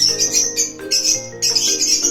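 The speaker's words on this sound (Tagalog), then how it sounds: "Ito po yung mga available dito na ibon ni Cerrone." Caged birds kept for sale chirp in short bright bursts, several overlapping high twittering calls coming close and loud in quick succession with brief pauses.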